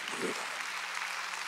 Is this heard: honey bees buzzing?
no